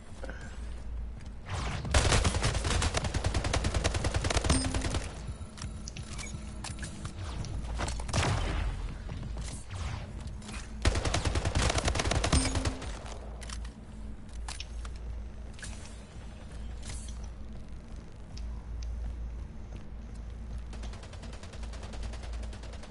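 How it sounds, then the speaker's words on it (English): Gunfire from a portal gun in a Splitgate match comes in two loud bursts of rapid shots, with quieter scattered shots and game sounds between them. "he instantly started just shooting through the portal"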